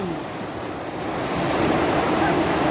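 A strong river current rushes steadily with a dense, even roar that swells slightly toward the end, heard up close and without talk.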